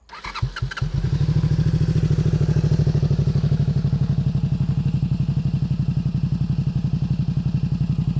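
A classic motorcycle engine starts with a few sputtering, clattering cranks, then catches and settles into a loud, steady, rapid idle thump that runs close and alone to the end.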